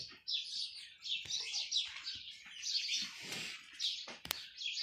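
Sparrows chirp near a cattle shed in a rural yard, a busy run of quick, high twitters and tweets overlapping one another, moderately close and continuous, with no talk.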